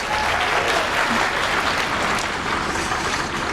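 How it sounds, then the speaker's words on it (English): Audience applause at an awards ceremony, a dense, even wash of many hands clapping that holds steady at full loudness for a few seconds, with no voices over it. "thank you so much for giving a loving applause to these folks"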